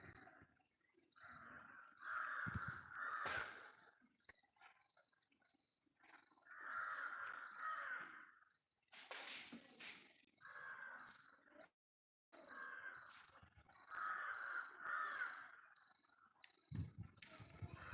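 Crows caw repeatedly in rough, rasping runs of calls, separated by short pauses, over a faint steady background hum, as they peck at a pigeon.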